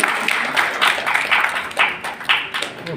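Audience applause at a Bangladeshi business award ceremony, a scattered crowd clapping steadily for a few seconds with some louder claps standing out, no voices over it.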